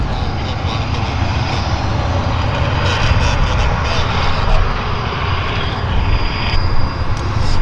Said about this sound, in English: So the Bombardier Challenger 350.